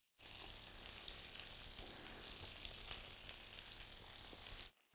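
Meatballs sizzle and fry in a high-sided pan, a steady, crackling hiss that starts abruptly, holds evenly for several seconds, then cuts off, quiet and close.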